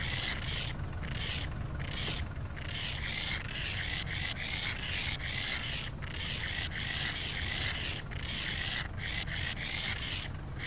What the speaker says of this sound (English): I know how to scrape windows in the game.